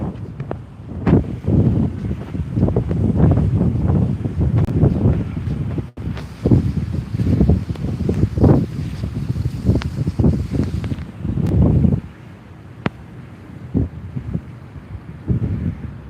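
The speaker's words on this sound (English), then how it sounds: "How well can you hear me with the wind?" Strong wind buffets a microphone outdoors in a downtown street, producing loud, irregular low rumbling gusts that pulse continuously before easing somewhat near the end.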